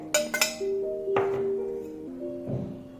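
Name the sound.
mixing eggs in a bowl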